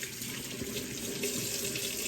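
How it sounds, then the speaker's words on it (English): Water runs steadily from a kitchen tap while hands are washed before cooking ground beef, a close, even hiss without a break. "making sure always washing our hands anytime before we cook, and especially after we're using raw meat"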